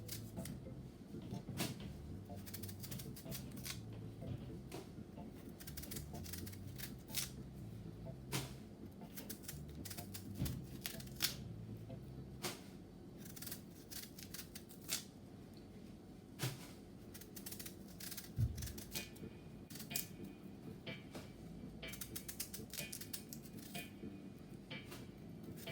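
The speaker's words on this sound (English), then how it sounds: "what you're gonna do now is peel again" A raw yam being peeled with a knife, a long run of quiet scraping and shaving strokes with irregular clicks and small knocks, close and faint with no speech.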